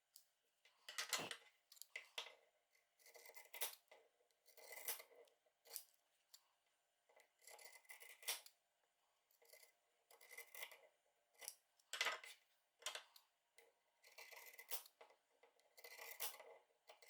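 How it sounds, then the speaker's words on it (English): Pinking shears snip through fabric along three sides of a small sewn pouch for fabric weights, giving a series of close, crisp rasping cuts in an irregular rhythm, with quiet pauses between strokes and no voices. "with the pinking shears we're going to cut along this side, along the top, and then back down this side"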